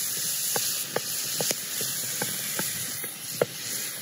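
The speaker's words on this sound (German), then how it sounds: "Und das Ganze muss jetzt sanft köcheln." A pot simmers gently over an outdoor charcoal fire, a steady low hiss broken by scattered soft pops and bubbles at irregular intervals, fairly quiet and close.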